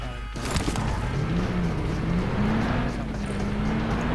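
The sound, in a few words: car engine noise in PUBG Mobile video game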